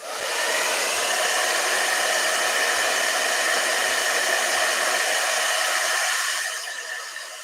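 A blow dryer runs steadily at close range, a loud continuous airy roar that holds for several seconds before easing off slightly near the end.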